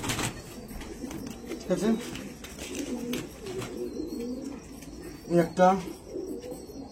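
Pigeons coo softly and repeatedly in the background while people talk nearby, with a louder burst of cooing toward the end.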